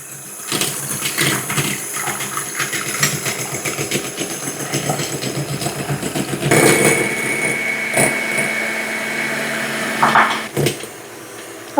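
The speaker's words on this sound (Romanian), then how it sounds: "Și acum bat spumă albușurile." An electric mixer beats egg whites with sugar at low speed for a mosaic cake, a continuous motor whir broken by irregular clattering and knocks of the beaters against the bowl, close and moderately loud, with no talk.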